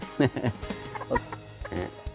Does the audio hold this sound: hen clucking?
yes